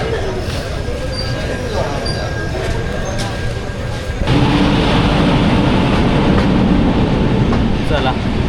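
The Ernakulam SF Express leaves Vasai station on a rainy day, a loud, steady rumble of rolling wagons that grows suddenly heavier midway, with people talking in the background.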